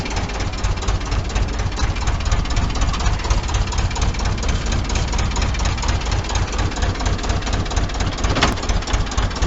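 Loud, close tractor engine chugging steadily with a rhythmic knocking pulse, heard from the tractor while raking with a belt rake, running without pause throughout.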